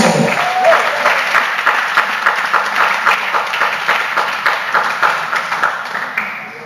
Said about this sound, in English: Give the Lord a clap of his hand.